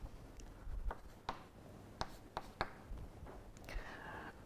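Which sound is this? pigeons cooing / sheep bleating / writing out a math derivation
writing out a math derivation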